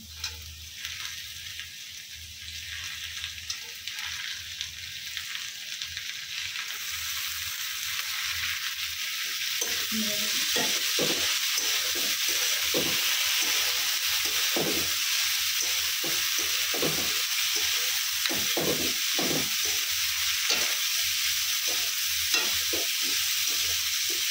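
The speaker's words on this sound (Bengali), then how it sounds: "একটু আলু ভেজে নিয়ে এরপরে করলাগুলো দিয়ে দেবো" Potatoes and bitter gourd frying in a pan with a little oil, giving a steady close sizzle throughout. Scraping stirs break in repeatedly during the second half.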